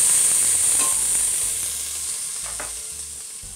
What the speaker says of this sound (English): we're going to place our oil in our hot pot, because you don't want to saute anything in a cold pot. And we'll add our onions.